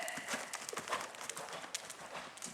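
A horse in collected canter during a riding lesson, quick rhythmic hoof clip-clops on soft ground, faint and somewhat distant.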